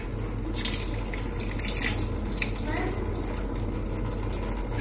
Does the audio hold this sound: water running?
yes